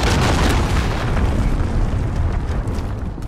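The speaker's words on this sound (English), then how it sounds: "Enemy cruise missile incoming!" A cruise missile explosion in the video game Call of Duty: Modern Warfare, a loud, sustained rumbling boom that fills the clip and slowly fades toward the end, with no voices over it.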